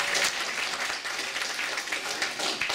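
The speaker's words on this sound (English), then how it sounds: "So a round of applause for Dr." At a City of Heroes player summit, the audience applauds in a short, steady burst of many hands clapping, moderately loud and even throughout.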